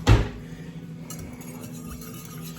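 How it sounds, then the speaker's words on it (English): A small hand whisk strikes a bowl, giving one sharp clink at the start followed by a faint ringing tail and low kitchen background. "Grab my my favorite little hand whisk."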